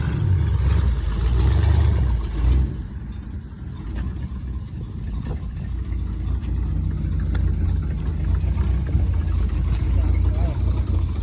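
A Ford F100 truck with a 360 engine idles nearby in a steady low rumble, somewhat louder at first, while people talk over it.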